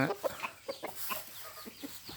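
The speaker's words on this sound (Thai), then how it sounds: "ไก่พม่า" Burmese gamecocks cluck in a series of short, close clucks and low calls, fairly steady over a quiet farmyard background.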